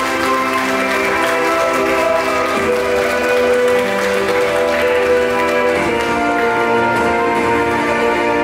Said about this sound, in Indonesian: Kita tepuk tangan sekali lagi yang paling meriah.